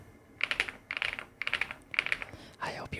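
Typing on an Epomaker Galaxy100 gaming keyboard: four quick bursts of crisp, clustered key clicks separated by short pauses, close and fairly quiet, with a softer rustle at the end and no talking.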